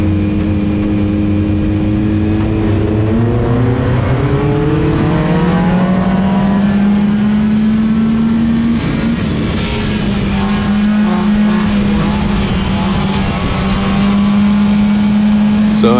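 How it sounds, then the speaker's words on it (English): A Dodge Neon race car roars loud and steady through a heat at Willamette Speedway, its engine pitch climbing through the revs, dipping once, then holding high, with no one speaking. "So that little Neon's got some horsepower on it for sure."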